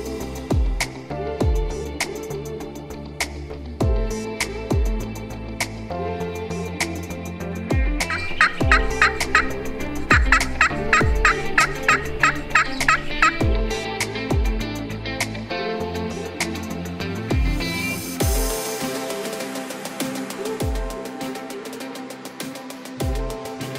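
Wild turkeys gobble repeatedly during a spring archery hunt in Nebraska, loud and near, with overlapping calls and clucks in bursts.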